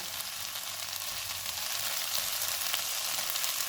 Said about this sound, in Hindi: इनको 2 से 3 मिनट तक भूनेंगे।